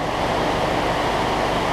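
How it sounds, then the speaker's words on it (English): Heavy rain pours steadily outdoors around a barn shop in swampy land, a dense, even hiss of water spread across the whole band with no pauses, close and loud, no voices. "It's pouring down rain."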